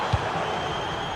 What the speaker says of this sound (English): Well, just listen to the crowd.